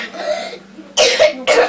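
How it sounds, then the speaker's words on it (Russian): Three wet, rattling coughs in quick succession, close and fairly loud, the first softer and the last two sharper with a phlegmy edge. "Кашель влажный, смокрутый"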